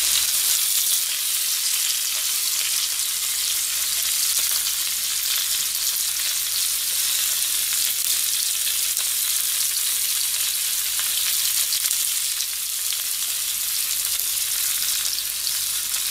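Gyoza dumplings fry in a pan, a dense, constant hissing sizzle held at an even, fairly loud level for the whole stretch with no voices over it.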